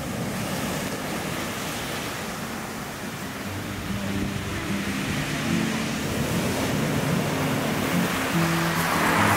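Steady roaring surf on the shore of Iceland's Snaefellsnes Peninsula with gusty wind buffeting the microphone, a continuous wash of breaking waves that swells slightly louder toward the end.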